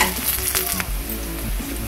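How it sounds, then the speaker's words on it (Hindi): Onions and spices sizzle and fry steadily in a pan for a jackfruit curry, with a continuous close hiss and a few stirring scrapes. "अब इसे मैं 2 मिनट तक फ्राई करती हूँ।"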